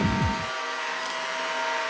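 A cheap Chinese robot vacuum cleaner, bought for 500 rubles, gives off a steady electric buzzing hum after a short low rumble at the start. No one speaks.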